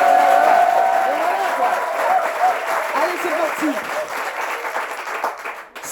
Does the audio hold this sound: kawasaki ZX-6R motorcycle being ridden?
no